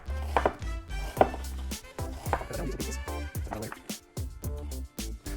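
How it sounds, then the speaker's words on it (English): An onion being chopped on a board with a chef's knife, a quick run of crisp, evenly paced knocks of the blade striking the board, close and fairly loud. "just come through from top to bottom, slice across, and then slice across the opposite direction"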